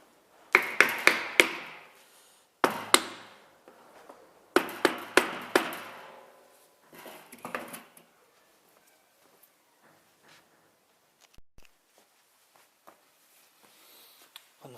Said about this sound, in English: Now we just tap on the cover now